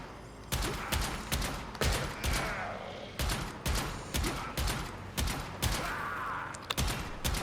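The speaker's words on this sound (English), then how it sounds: "Because I'm shooting through this thing like multiple pipes. Yeah, that's the Zenith." In the video game Warframe, the Zenith rifle fires in steady, evenly spaced bursts of sharp shots, loud and close, repeating for several seconds without pause.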